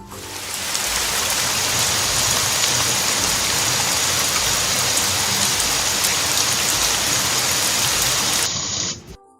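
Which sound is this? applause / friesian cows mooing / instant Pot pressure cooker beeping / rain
rain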